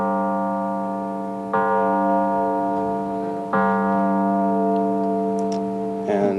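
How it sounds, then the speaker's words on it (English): An electronic note switched on by flexing a muscle: a steady harmonic synth tone sounds alone, stepping louder twice as the muscle contracts again, with a brief higher flutter near the end. "what you just heard is a note turning on, and it turns on by just flexing my muscle."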